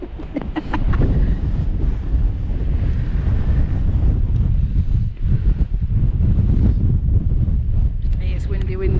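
Strong wind at Stanage Edge, on the South Yorkshire–Derbyshire border, buffets the microphone in a loud, low rumbling roar that persists nearly the whole time, with a faint voice briefly near the end.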